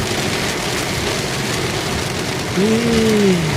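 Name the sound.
heavy typhoon rain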